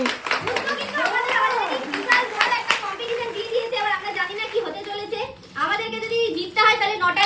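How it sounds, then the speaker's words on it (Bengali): A group applauds at a cash-prize game event, loud rhythmic clapping mixed with children's voices and excited chatter throughout, with talk over the top. "জোরে হাততালি জোরে হাততালি"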